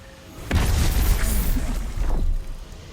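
A grenade detonates in the video game Destiny with a heavy, booming blast that rumbles for about two seconds before fading.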